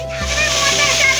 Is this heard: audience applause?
no